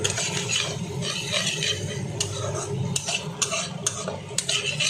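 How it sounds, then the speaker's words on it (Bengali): Onions frying with green chili and garlic in a pan, a steady close sizzle broken by several sharp scrapes and clinks of a spoon stirring against metal, with no voices. "অলরেডি হয়ে গেছে, আমি গ্রিন চিলি দিয়ে দিয়েছি আর রসুনটা অ্যাড করে দিয়েছি।"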